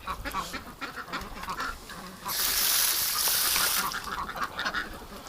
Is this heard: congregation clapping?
no